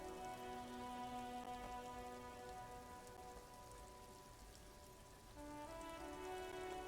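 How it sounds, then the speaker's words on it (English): Rain falls steadily in the video game Disco Elysium as a soft, even patter. Sustained musical tones play beneath it throughout, with the rain swelling slightly louder toward the end. "It's raining again."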